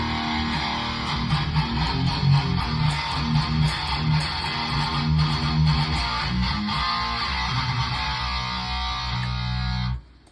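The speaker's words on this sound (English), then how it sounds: "So what you're hearing is, you know, the mic'd amplifier through my listening monitors." Electric guitar sent through an XVIVE P58 wireless system into a Vintage 30 speaker cabinet miked with an SM57, playing steadily and loud with distorted tone for about ten seconds before stopping abruptly, no talking.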